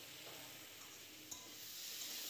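Vegetables and spices frying in a pan with a little water added for a Bengali small-fish curry with eggplant, radish, beans and lentil dumplings; a steady, soft, close sizzle with faint stirring, and one small clink midway.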